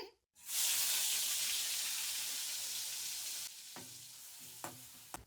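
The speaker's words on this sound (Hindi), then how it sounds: "उसी ऑयल के अंदर हम 2 प्याज का पेस्ट डालेंगे।" Onion paste hitting hot oil left from frying chicken for a white chicken karahi, a sudden loud sizzle that slowly fades, then a few stirring clanks near the end.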